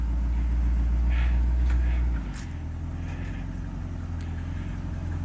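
A 1984 C4 Corvette fitted with a new starter and new distributor turns over and runs: a steady low rumble that drops into a lower, even idle partway through, close by, with no talk over it.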